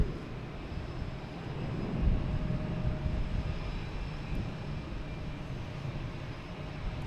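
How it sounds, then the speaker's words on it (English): JetBlue Airbus A320 taking off from Boston Logan Airport, a broad jet engine roar swelling around the second second and then holding steadily, heard from a distance with some wind buffeting and no talk. "we have JetBlue taking off. A320 heading to Sacramento."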